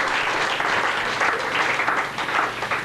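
A church congregation applauds loudly in a dense, continuous wash of clapping that holds steady for a few seconds with no voices over it.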